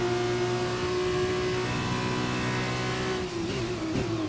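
Formula 2 race car engine in the F1 2021 game, a loud sustained high-pitched whine holding steady near full revs, with a brief dip and shift toward the end; no talking.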